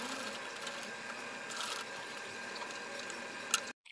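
A sewing machine stitches a round cutwork neck design on a blouse in maroon and black, a continuous whirring run at close range that stops abruptly near the end.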